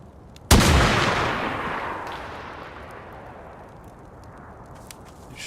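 Savanna rifle in the video game DayZ fires one loud, sharp gunshot that rolls into a long, fading echo across open terrain, with no talk.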